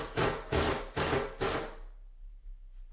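A screw is driven into a wall stud to mount a bathroom shelf bracket: four evenly spaced, fairly loud bursts of a power driver close by, then quiet.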